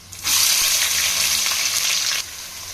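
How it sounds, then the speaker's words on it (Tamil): Sliced onions hit hot oil with whole spices such as cloves, cardamom and fennel for beef biryani, giving a sudden loud, close sizzle that holds steady for about two seconds and then drops away. "நல்லா ப்ரௌன் ஆகிற வரைக்கும் வதக்கி விட்டுக்கலாம்."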